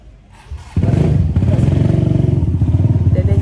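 A trail motorcycle on the slopes of Merapi starts up after a quiet moment, then idles loud and close with a steady pulsing engine rumble and a little clatter.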